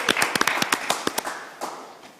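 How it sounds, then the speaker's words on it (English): A small audience at a New Zealand virtual assistant awards gives a brief burst of sharp, scattered claps for the finalists, a dozen or so distinct hits that thin out and fade within about two seconds. "So a big round of applause,"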